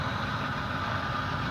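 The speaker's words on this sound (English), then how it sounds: "it just sort of steams and makes noise and puffs and chuffs" A Hudson model steam locomotive's sound board gives a steady, dense mechanical rumble with an engine-like hum, continuous and fairly loud, without clear separate chuffs and with no talking.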